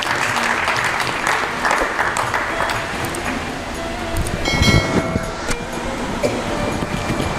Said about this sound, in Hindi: आप सबकी भरपूर तालियों में जनाब मंसूर आकाश